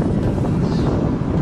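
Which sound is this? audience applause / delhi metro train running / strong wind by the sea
strong wind by the sea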